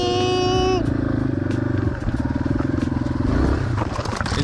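A dirt bike engine revs and chugs while riding through sand, loud and close, with a steady rumbling throttle and scattered crackling and clattering over it.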